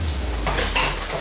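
A spoon stirring cobbler mixture in a bowl, a short burst of scraping and light clinks against the dish, close and fairly loud.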